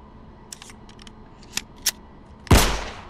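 Gunfire in a VR shooter game: a few faint sharp reports early on, then one loud close shot with a lingering tail near the end, no talk.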